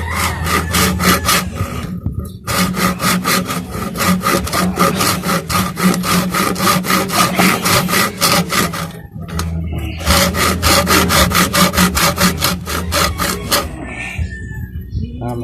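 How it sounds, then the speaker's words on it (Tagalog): A handsaw works through bamboo being cut into a pot, its steady back-and-forth strokes rasping close and loud in long unbroken runs, with two brief pauses between bursts of sawing. "kailangan na natin siyang lagariin na po natin siya"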